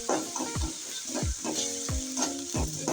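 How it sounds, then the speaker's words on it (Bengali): Ginger garlic paste frying with onion in a pan gives a steady sizzle under a rhythmic scrape of a spoon stirring about twice a second, close up with no voices. "আদা রসুন পেস্টটা আমি ভালো করে পেঁয়াজের সাথে ভেজে নিই"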